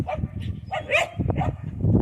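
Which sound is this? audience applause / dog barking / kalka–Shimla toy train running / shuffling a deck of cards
dog barking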